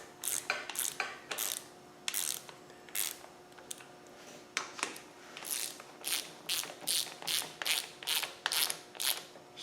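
A hand ratchet spins down cylinder head bolts on a Land Rover 300Tdi engine, producing repeated bursts of quick clicking in short strokes, close and clear with brief pauses between.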